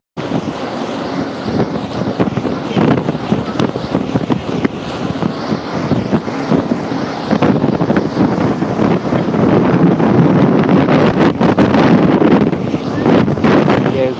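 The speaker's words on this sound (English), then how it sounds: "Yeah, it's very windy." Gusty wind roars against the microphone on an open airport tarmac near parked planes, loud and steady with stronger gusts later, while people talk intermittently.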